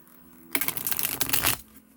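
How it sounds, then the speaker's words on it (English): Tarot cards get shuffled once in a quick riffle, a crisp fluttering burst about a second long heard close up, with quiet before and after. "I'm going to have to shuffle one more time."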